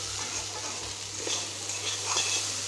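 Cauliflower and potatoes fry in a pan with a steady, close sizzle and occasional soft stirring scrapes, no voices.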